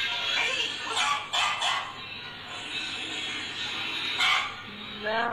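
A recording of an eight-year-old dog barking is played back over a phone line, giving a tinny, narrow sound. Several sharp barks and yips come in short bursts, separated by quieter stretches with a voice speaking.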